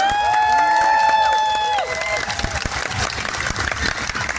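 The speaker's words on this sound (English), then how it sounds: "Big cheer for Sheba." A room full of people at a 1v1 tournament grand final cheers and claps for a caster, loud dense clapping under voices and whistling tones at first, then thinning into scattered claps and chatter.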